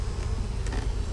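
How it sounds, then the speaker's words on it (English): Honey bees buzz in an open hive, a dense, steady drone close by that holds at an even level throughout with no voices. "I got a lot of bees in it."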